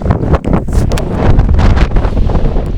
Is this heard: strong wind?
yes